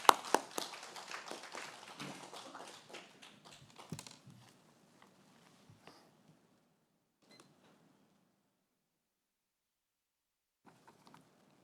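A Korean church congregation at a Sunday worship service claps together, a dense burst of hand claps that thins out and fades within a few seconds, leaving near silence with a few scattered taps.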